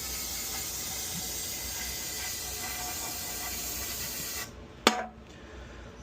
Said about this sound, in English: It's going to take a small fortune in brake cleaner.